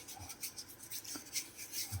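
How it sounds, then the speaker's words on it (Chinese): An airsoft gun part, a WE Gen3 TTI, gets hand-sanded in rough early shaping, giving short quiet rubbing rasps in an uneven rhythm. "这个都是初步的打磨"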